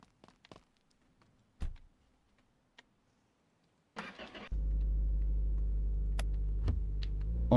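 In the video game My Garage, a few faint clicks and ticks from a car come first, then the engine cranks, catches and settles into a steady, loud idle that runs to the end.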